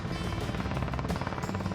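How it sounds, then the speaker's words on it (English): A crew helicopter flying overhead during winching practice, its steady rotor thrum and whine loud and continuous throughout, with no pauses. "Captain Kate controls the helicopter by pointing the rotor blades in the direction she wants the helicopter to fly"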